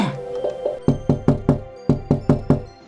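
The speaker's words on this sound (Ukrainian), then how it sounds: "Ніби хтось тихенько постукав у наше віконце." Gentle knocking on a window, a few soft taps followed by two crisp rhythmic series of four knocks each, close and clear with no talking.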